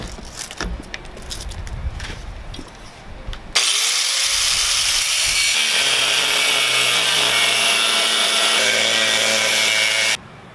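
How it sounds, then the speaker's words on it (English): An angle grinder fitted with a metal cutoff disc cuts through the steel welds on a trailer. Near the start there is scattered scraping and handling. Then the grinder spins up into a loud, harsh, sustained cutting whine that runs for about six seconds before it cuts off abruptly. "you need an angle grinder with a metal cutoff disc"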